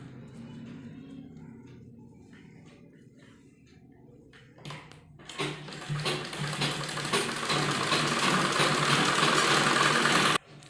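A sewing machine stitches a simple suit or kurti, a quiet start followed by a steady, loud whirring run that builds over several seconds and stops abruptly.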